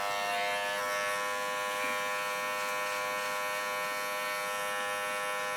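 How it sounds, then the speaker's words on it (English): A steady, close electric hair trimmer buzz runs throughout a home haircut for a boy or man, unbroken and alone without talk. "Just using the very edge of your trimmer there."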